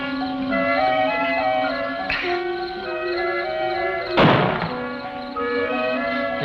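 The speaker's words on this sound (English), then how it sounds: "when he fires that cannon, he means business" A cannon fires in a 1965 science fiction film, a single sharp, muffled blast heard against a sustained musical score, with a smaller thump a couple of seconds earlier.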